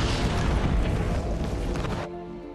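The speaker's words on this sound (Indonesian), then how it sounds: "Kopral Richard terkena ledakan dari artileri Jerman" German artillery shell exploding in a war film, a loud deep boom with a rumbling, roaring blast that sustains for about two seconds before cutting off abruptly into quieter background.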